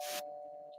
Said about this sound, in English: that's the doorbell, everybody